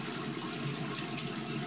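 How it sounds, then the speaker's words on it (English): Hot water running from a bathroom tap, a steady broadband rush of flowing water, continuous and close with no talk over it. "Now that I've got hot water, I'll turn that off so you can hear me a little better"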